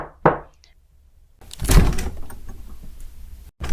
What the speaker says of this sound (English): she trusts Shota's judgment and knocked